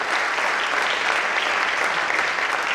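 An audience claps loudly and steadily for a sound recordist called onto the stage after a performance of the play Ghashiram Kotwal, a dense wash of applause with no voices.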